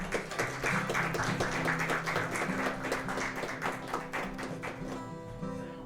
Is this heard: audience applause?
yes